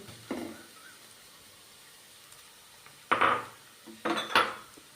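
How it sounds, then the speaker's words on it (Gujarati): Carrots dropped into a pan while making Chinese fried rice, giving a short clatter near the start and two louder bursts of metal-and-utensil clinks toward the end, with quiet gaps between them. "ત્યારબાદ આપણે ગાજર એડ કરીશું"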